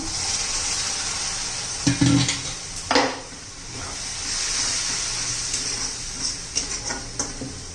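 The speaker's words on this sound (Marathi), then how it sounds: "थोडंसं आपलं 2 चमचे असं गरम पाणी घालूया." Hot water spooned into sizzling chicken fry in a pan, a steady hiss with a few spoon knocks and clinks against the vessel, close up and with no talking.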